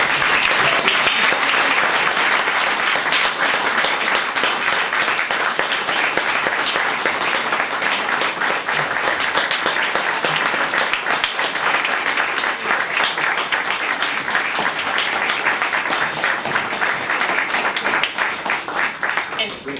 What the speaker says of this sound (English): why don't we give Ann Farrell a nice round of applause?